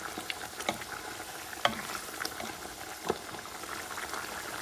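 Chickpea and beef-feet broth boils in a pot on the stove, giving a quiet, steady bubbling with scattered small pops and sizzles and no voices.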